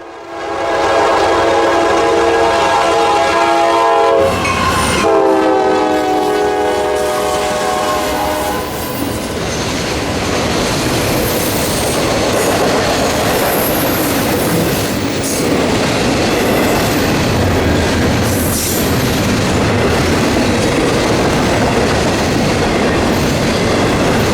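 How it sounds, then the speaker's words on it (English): A Norfolk Southern southbound freight train rolls past at close range toward Simpson Yard, loud and continuous, opening with a long blast of its horn and then a steady roar of wheels and rattling cars without pause. "First up was southbound 209, hammering into Simpson Yard and ultimately Miami via the Florida East Coast Railway"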